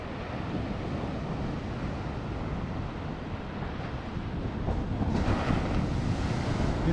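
Ocean surf at a Delaware beach rolls in a continuous wash with wind buffeting the microphone, and a wave swells louder near the end.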